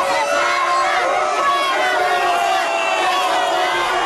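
An incensed crowd of hundreds of local residents shouts in anger, a dense, loud wall of overlapping yelling voices that continues without pause throughout.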